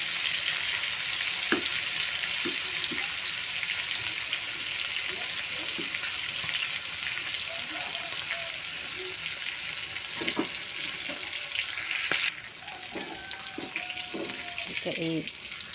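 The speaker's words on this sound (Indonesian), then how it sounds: "Udang goreng." Shrimp frying in a pan of hot oil, a steady dense sizzle running throughout, close and loud, with a few faint clinks and light stirring sounds on top.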